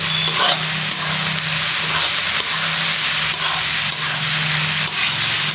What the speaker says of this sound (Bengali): একটু হালকা লাল করে ভেজে নেব।